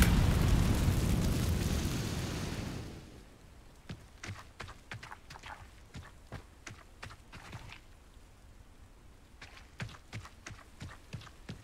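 Incendio fire spell cast in Hogwarts Legacy, a loud fiery roar for about three seconds that drops away into sparse, crackling pops and snaps like burning embers, continuing to the end.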